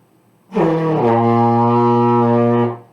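A trombone sounds one long sustained F, steady and rich, holding for about two seconds before fading out.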